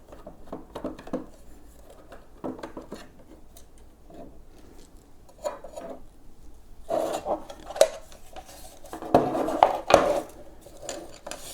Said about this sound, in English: with a Phillips screwdriver, you are going to remove the 4 screws